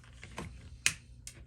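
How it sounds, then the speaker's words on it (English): Hand cutters snip plastic parts out of a toy blaster kit, giving a few close, sharp clicks, the loudest one near the middle, with faint handling noise between them. "So we'll do some snipping."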